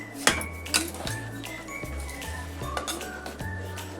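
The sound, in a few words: rice being stirred and sautéed in a pan, clinking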